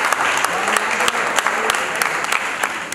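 Guests at a wedding ceremony clap loudly and continuously in a big hall, a dense wash of many hands with a few sharper individual claps standing out, and no talking over it.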